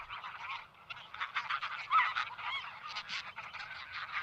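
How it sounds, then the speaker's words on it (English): A flock of wild geese, a wild relative of the domestic goose, gives a constant squawking chatter of overlapping honks and calls, busy and close, with no voices over it. "a constant squawking chatter keeps them in touch"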